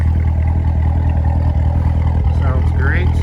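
A 2017 Chevrolet Corvette Z06 with a 3LZ trim idles with a deep, steady low rumble close by, constant and fairly loud, with a person talking over it near the end.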